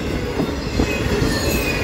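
Freight train passing at night on Norfolk Southern rails, a loud, close rumble of rolling cars with squealing wheels, continuous throughout.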